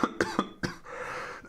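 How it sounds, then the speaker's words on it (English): A person with a lingering cough lets out three quick harsh coughs in a row, then a fourth after a short gap, close to the microphone. "I still have a cough"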